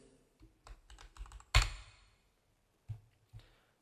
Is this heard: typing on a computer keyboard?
yes